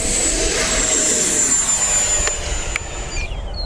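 An FMS Viper 70mm electric ducted-fan RC jet takes off with a loud, steady high-pitched turbine whine and broad rushing air noise that holds for several seconds before the pitch sweeps downward.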